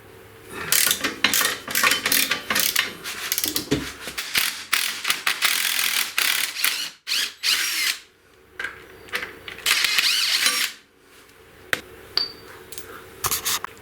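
A ratchet backs out the T50 lower shock bolt on a BMW R1200GS during swing arm boot work, giving loud, rapid clicking bursts that repeat over and over with short pauses between them.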